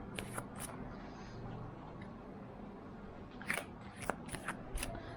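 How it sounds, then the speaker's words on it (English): Tarot cards being shuffled by hand, a soft papery riffling with a few crisp snapping clicks near the end, close and fairly quiet with no talk. "this is going to be my last shuffle now before I draw my cards"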